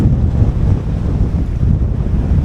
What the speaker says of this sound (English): We're gusting over 30 right now, and we've got sustained winds at about 18